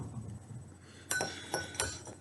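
A spoon clinks sharply against a glass of chocolate milk three times in quick succession while it is stirred, after a quiet, low rumbling start.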